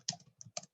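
Bursts of typing on a computer keyboard, a few quick clustered key clicks with short pauses between them, close and fairly faint, no voices.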